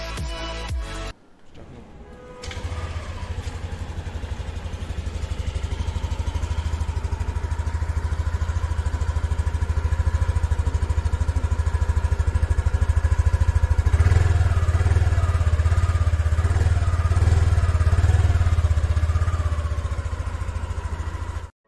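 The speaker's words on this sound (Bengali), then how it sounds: "এবার শুনে নেওয়া যাক এর এক্সস্ট সাউন্ড, এর ইঞ্জিনের সাউন্ডটা কতটা রিফাইনমেন্ট শুনুন।" A 2022 Yamaha Aerox 155 scooter starts after a short clatter and settles into a steady, close engine and exhaust idle with a low, even hum that continues to the end.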